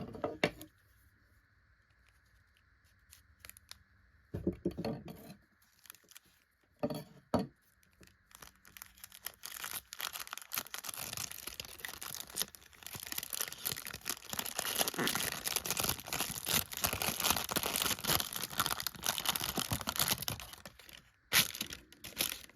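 Packing tape and paper being cut and torn off a new knife box, heard as scattered rips at first, then a loud, sustained stretch of crinkling, tearing and crumpling close by before it stops abruptly.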